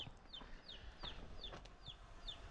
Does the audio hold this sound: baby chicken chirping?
yes